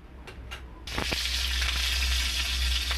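Panch phoron seeds and green chili hit hot oil with a sudden loud sizzle that keeps frying steadily and close, after a few faint taps beforehand.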